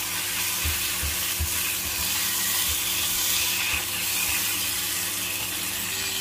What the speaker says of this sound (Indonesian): ini tumis teman-teman sampai benar-benar bumbunya matang supaya tidak bau bumbu mentah ya